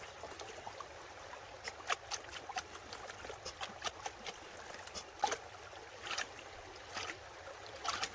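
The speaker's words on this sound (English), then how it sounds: "Pan it down till you're at the heaviest of the black sands." Water and black sand swirled in a gold pan give a soft, steady wash with irregular small splashes and trickles, close by and fairly quiet, without talk.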